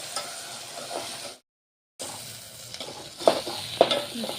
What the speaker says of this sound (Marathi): याला 5 मिनिटापर्यंत छान याचा कच्चेपणा जाईपर्यंत आपल्याला होऊ द्यायचा आहे पेस्ट.